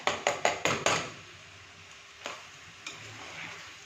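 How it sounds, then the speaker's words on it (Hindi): Boiled turnips being stirred into masala in a pan for shalgam sabzi: five quick, evenly spaced spoon taps at first, then quieter scraping and a couple of soft knocks, close by, with no talking. "तो अब हम यहाँ पर मसाले को शलजम में अच्छे से मिक्स करेंगे।"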